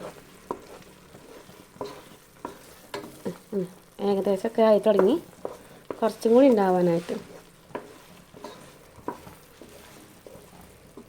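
A spoon stirs thickening milk in a pan for milk peda, giving soft scraping and bubbling in a steady rhythm, while someone speaks over it in the middle.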